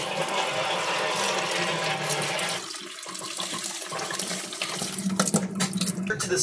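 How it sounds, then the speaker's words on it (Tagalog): Food washed under a running kitchen tap, with a steady close rush of water that splashes and breaks up as the food is handled beneath the stream. "Hugasan namin dito. Ito ang hugas. Hugas lang. Para marinig."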